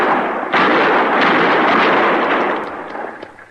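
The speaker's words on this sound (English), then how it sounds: "Use your rifle, Chester." Rifle shots fired at distant attackers in an old-time Western drama, heard as a loud booming blast with rolling echo, followed by a few fainter distant cracks as the sound fades.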